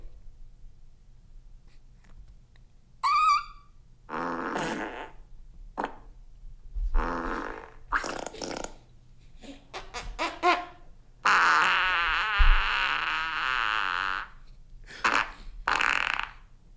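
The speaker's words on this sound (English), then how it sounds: "That one fart, like, asked a question." Farts played back in a podcast studio, a series of squeaky, drawn-out and buzzing bursts separated by short silences, one long rising blast near the end, with no talk over them.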